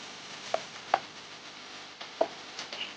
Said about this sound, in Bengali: আগে আমি আলুগুলোকে পিস পিস করে কেটে নেব